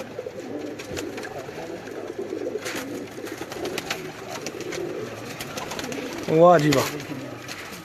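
Domestic pigeons coo in a loft in Lahore, a steady low burbling under a voice, with one louder, nearer coo near the end.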